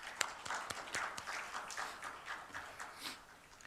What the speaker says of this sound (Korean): 우리의 새 가족을 박수로 환영하겠습니다